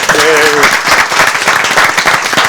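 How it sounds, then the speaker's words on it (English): Audience applause breaks out at a city council meeting for police sergeants, a loud burst of crowd clapping with a brief tonal sound near the start. "So a big round of applause for the sergeants."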